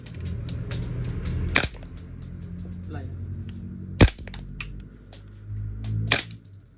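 A G&G MGCR556 gas blowback airsoft rifle fires sharp, loud cracking shots during a chronograph check, with a few single pops spaced seconds apart alongside smaller clicks and handling noise, and a voice speaks between the shots.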